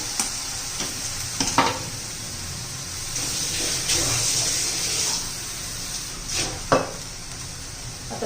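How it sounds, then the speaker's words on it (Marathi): Cooked fenugreek leaves stirred in a pan over a low sizzle, with several distinct scraping strokes of the spoon at uneven intervals. "मस्त आता मिक्स करून घ्यायचंय शिजली का मेथी"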